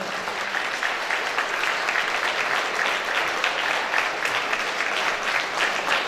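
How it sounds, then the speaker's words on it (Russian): Audience applause fills the hall, continuous dense clapping at an even level from start to finish with no pauses. "вам аплодируют все"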